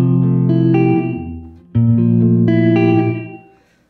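Sustained electric guitar chords through a Catalinbread Cloak reverb pedal, reverb at zero, ring out twice, each strummed and left to decay, with a thick effected tone and a fading tail.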